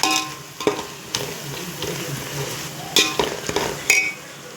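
Chili powder being stirred into beef biryani masala in a pan, with a soft continuous scraping and light sizzle broken by several sharper clinks of the spoon against the pan, close and fairly loud.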